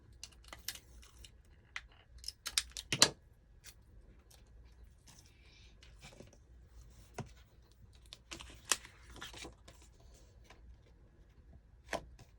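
A few faint, crisp snips of scissors cutting paper, spaced irregularly with quiet pauses between them.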